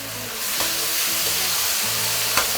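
Beef cubes stir-fried in a wok over high heat with black pepper sauce, ginger, garlic and shallot: a loud, dense, continuous sizzle with brief scraping spatula strokes, no talking.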